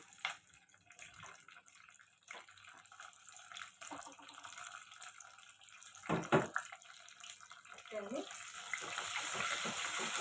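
Mustard seeds and four dried red chillies dropped into hot oil for a moong dal rasam tempering, giving a faint crackling sizzle that grows louder near the end, with a few sharp pops and clatters.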